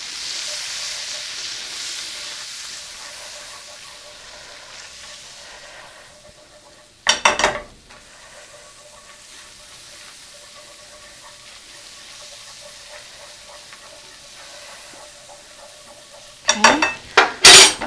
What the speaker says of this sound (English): Just sprinkle it in a little at a time